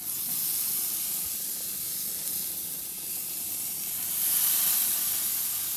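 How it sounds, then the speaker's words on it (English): Steaks flare up on a fire-lit backyard grill, giving a steady loud hiss and sizzle that swells louder toward the end, with no talking over it. "Look, Mommy, the steaks are on fire."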